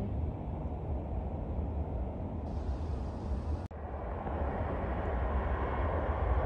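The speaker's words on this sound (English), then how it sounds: "there's a 757-300. Maybe it'll land on this runway" A Boeing 757-300 airliner approaching to land, a steady broadband jet roar with low rumble holding at a constant level, heard from a distance outdoors with no talk.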